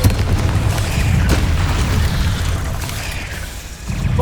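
The Descendo spell in the Hogwarts Legacy video game, fought in the Feldcroft catacomb, slams an enemy down with a loud, heavy, rumbling boom that stays low and sustained through the moment, with no talk over it.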